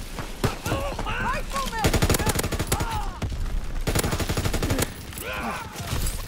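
Sustained automatic gunfire and rapid shots in the video game Call of Duty WWII, loud and continuous with brief pauses, while voices shout and talk over the battle.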